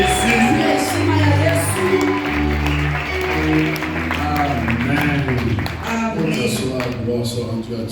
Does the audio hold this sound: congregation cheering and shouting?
yes